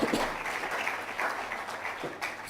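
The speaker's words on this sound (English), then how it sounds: "give ourselves a round of applause" Conference delegates applauding at an awards event, a dense, steady wash of clapping from a roomful of people that carries on without a break, fairly close and even in loudness.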